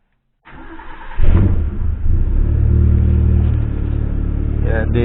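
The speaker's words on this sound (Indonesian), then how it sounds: "Jadi proses terakhir ya tinggal dihidupkan mesinnya saja." Suzuki Jimny Katana engine, being run after a carbon cleaning treatment of the cylinder head, cranks briefly and catches, then settles into a loud, close rumbling idle with a slight rev.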